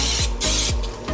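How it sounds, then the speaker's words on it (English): Cooking spray hisses onto a George Foreman grill in a few short, loud, close bursts separated by brief pauses. "I make sure to spray this George Foreman grill so that it doesn't stick"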